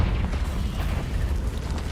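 A booming fire-spell explosion from the Hogwarts Legacy video game, a loud, dense low rumble that lasts throughout the short stretch without speech.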